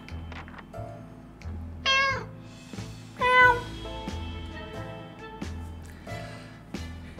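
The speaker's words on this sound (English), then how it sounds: "Amidst the rubble, we found a cat." Cat meowing in the survival game 60 Seconds, two clear drawn-out meows standing out over steady game music and low rhythmic background tones, with no talking.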